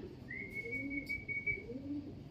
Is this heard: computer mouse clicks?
no